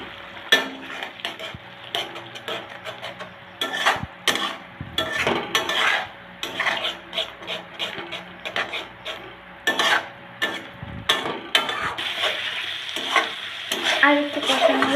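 Pointed gourd mash seasoned with turmeric and salt is stir-fried, a soft sizzle running beneath repeated scraping and clattering strokes of a spatula against the pan, close and fairly loud, with no one speaking.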